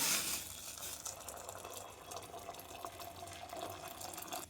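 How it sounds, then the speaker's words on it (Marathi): Hot water pours steadily into a bowl of washed sabudana (tapioca pearls) at close range, a continuous liquid rush and gurgle with no talking. "आता यात गरम केलेलं पाणी टाकू"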